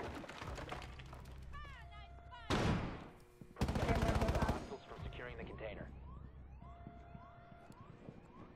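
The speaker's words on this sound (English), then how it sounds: "I believe the Alda is a better overall weapon because it allows you to do things like this" An Alda light machine gun firing in Rainbow Six Siege, two loud sustained bursts of rapid automatic fire amid game effects, tones and chatter.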